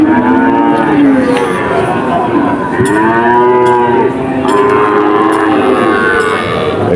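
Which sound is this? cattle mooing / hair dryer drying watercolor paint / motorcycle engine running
cattle mooing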